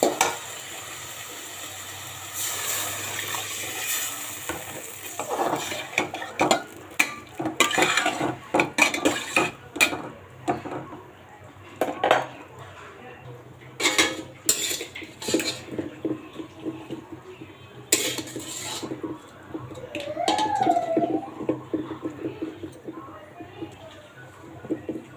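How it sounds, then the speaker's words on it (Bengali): Water and rohu fish go into a pan of spiced curry, with clattering utensils, splashes and stirring, and a voice talking intermittently throughout. "আমি এখন ঝুল দিয়ে দিব আর মাছ দিব।"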